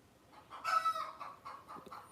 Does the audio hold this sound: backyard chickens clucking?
yes